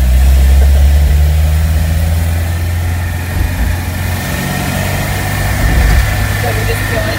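Volvo Amazon with a B20 engine idling at its first start, a steady low rumble and vibration running continuously at close range, with faint voices mixed in.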